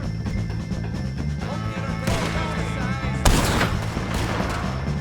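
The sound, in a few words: gunfire in video game Red Dead Redemption 2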